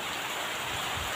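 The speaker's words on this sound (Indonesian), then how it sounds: "Bikin merinding kalau hujan angin di tengah sawah ini ya, Ji." Wind-driven rain pours over open rice fields in a dense, unbroken hiss, steady and enveloping with no pauses.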